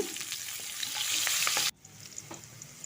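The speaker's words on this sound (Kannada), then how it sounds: "ಈರುಳ್ಳಿ ಹಾಕ್ಕೊತಿದ್ದೀನಿ ಒಂದು ಸ್ವಲ್ಪ ಕರಿಬೇವು ಹಾಕ್ಕೊಳ್ಳೋಣ ಸ್ವಲ್ಪ ಇಂಗು ಹಾಕ್ಕೊಂಡಿದ್ದೀನಿ ಹಾಕಿ ಫ್ರೈ ಮಾಡೋಣ" Onion, curry leaves and asafoetida fry in a pan with a bright, steady sizzle and some stirring, then the sizzle drops sharply to a quieter crackle partway through.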